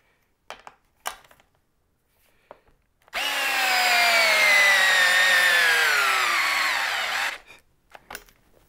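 A cordless drill, a cheap Parkside or a Milwaukee M12, runs on speed one in a single close, loud burst of about four seconds, its whine sagging slightly in pitch, with scattered clicks before and after.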